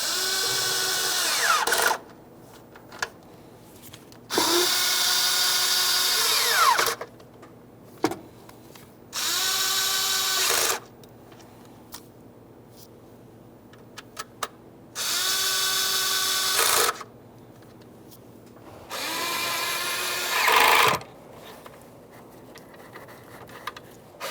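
A power drill snugs valve cover bolts on a 2015-2020 Ford F-150 3.5L V6, five loud whirring bursts of a few seconds each separated by quiet pauses with faint clicks.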